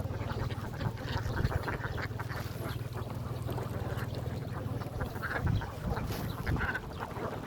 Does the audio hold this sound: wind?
no